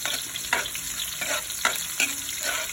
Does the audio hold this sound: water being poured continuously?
no